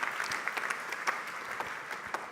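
An audience at a French political party gathering applauds, a dense, steady patter of many hands clapping together at moderate distance, with no distinct voices.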